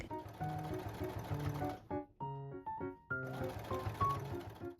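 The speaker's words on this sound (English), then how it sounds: "Pin the end of the neckline bias tape together. And sew it around the neck." A sewing machine stitches bias tape around a blouse neckline in two quick whirring bursts separated by a short pause, close and clear with no voices.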